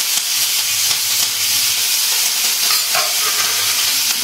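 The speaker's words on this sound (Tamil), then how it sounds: "வந்து கருவேப்பிலை போட்டுக்கலாம்." Curry leaves fry in hot oil for a mutton curry, making a loud, dense, steady hiss and crackle close by, with a faint low hum beneath.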